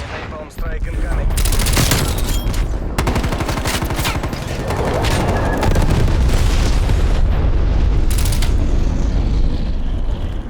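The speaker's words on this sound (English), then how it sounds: "Napalm strike incoming." Loud, dense barrage of explosions and gunfire from a napalm strike in the multiplayer shooter Black Ops Cold War, on the Moscow map in a Domination match, with booming blasts and rapid shots continuing almost without a break.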